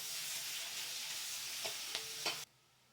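Onions frying in oil with panch phoron for a katla fish curry: a steady, close hiss of sizzling, broken by a few scraping stirs near the end, then an abrupt cut to near silence.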